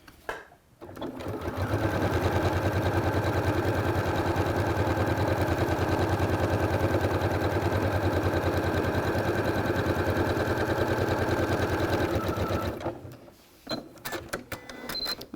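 A sewing machine with a walking foot stitches quilting lines, a loud, close, steady mechanical whir running for about ten seconds before stopping, followed by a few soft clicks and handling noises.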